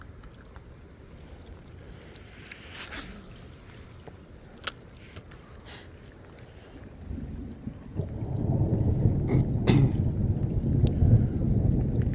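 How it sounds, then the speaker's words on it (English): Thunder from an approaching thunderstorm rumbles low and far off while fishing on open water, growing into a heavier rolling rumble in the second half, with faint clicks and rattles close by. "You guys hear that thunder?"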